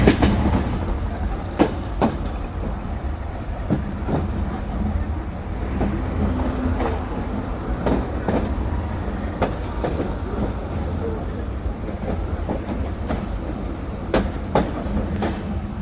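Sagardari Express passenger train rolling on rails near Mobarakganj station by Jashore cantonment, heard from on board as a constant low rumble with sharp clickety-clack wheel knocks at irregular intervals and faint background voices.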